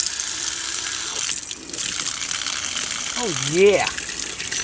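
Water gushes steadily from a newly fitted outside tap after the supply is turned back on, a loud continuous broadband rush that runs throughout while a man briefly exclaims over it.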